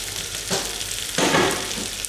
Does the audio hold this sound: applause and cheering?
no